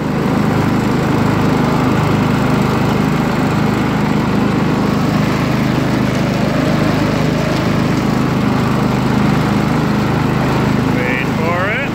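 Lawn mower engine running steadily and loud throughout, a constant close drone with no breaks, while a person talks over it at times.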